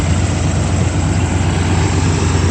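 A 1937 Ford truck rat rod's engine runs at a steady idle, giving a continuous, close, loud low rumble with no one talking over it.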